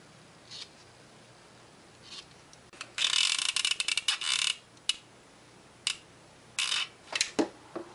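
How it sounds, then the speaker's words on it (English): Scissors trimming excess corners from fabric for a small pincushion ring, heard as several close, crisp snips in short bursts, the busiest cluster mid-clip and a few isolated cuts toward the end, with no talking. "Now I'm just going to cut the excess out. Basically just the corners."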